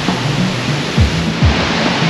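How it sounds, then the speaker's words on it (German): Rushing water of the Krimml Waterfalls in Austria, a steady broadband roar close by with no voices over it. "Auf dem Weg nach Tirol haben wir einen Abstecher zu den Kringler Wasserfällen gemacht."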